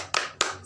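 Children in a third-grade classroom do a rhythmic spirit clap: two sharp, close claps about a third of a second apart, with a faint hum of the room between them.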